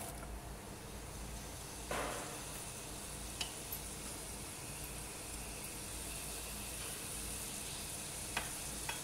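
Chopped onions sizzle in hot olive oil in a pan for lauki mutton, a continuous steady frying hiss with occasional soft stirring knocks and no talking.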